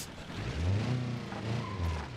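A noisy car engine in BeamNG Drive, a low rough droning rumble with a slight rise and fall, moderately loud and brief with no talk.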